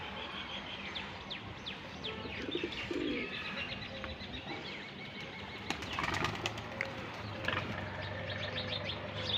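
Pigeons coo softly amid chirps, with bursts of flapping wings around the middle, the birds fairly close and continuous throughout.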